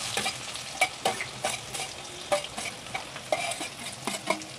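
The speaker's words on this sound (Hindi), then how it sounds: "फिर कटा हुआ प्याज डालेंगे, इसमें कटा हुआ प्याज डालेंगे" Chopped onion drops into hot oil already holding cumin seeds, curry leaves and red chillies for a spiced potato dish, giving a steady loud sizzle with occasional stirring scrapes and crackles.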